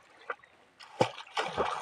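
People splashing water in a canal: a few faint, quick splashes and sloshes at low level, growing a little busier toward the end.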